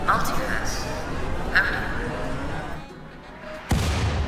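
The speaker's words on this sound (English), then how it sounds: "They are setting up mortars" Mortar fire in a video game: distant booming thuds and blasts over a noisy battle backdrop, with a sharp heavy impact near the end, while a person talks over it.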